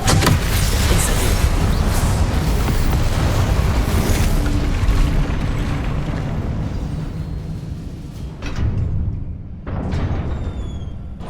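Incendio fire spell cast in Hogwarts Legacy: a loud, sustained roaring burst of flame that fills the whole stretch, easing slightly near the end with a couple of short flare-ups.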